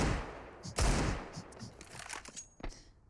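In a Counter-Strike match, a loud sniper-rifle shot cracks out, followed by scattered gunfire and quieter game effects. A commentator talks underneath.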